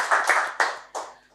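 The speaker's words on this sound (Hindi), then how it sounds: "जोरदार तालियां खुदा के खादम" A short burst of four or five sharp, loud hand claps at a lively church gathering, spaced unevenly and each ringing briefly before the next.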